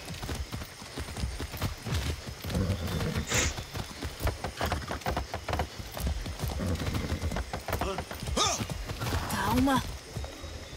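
A horse in the video game Far Cry 6 clip-clops along in a quick, continuous hoof rhythm, mixed with game sounds and brief voices throughout.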